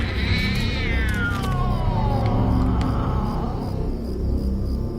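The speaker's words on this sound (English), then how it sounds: "What's this cat doing by my house?" A cat in a video game lets out one long, drawn-out meow that slides downward in pitch, over a steady low rumbling ambience with no talking.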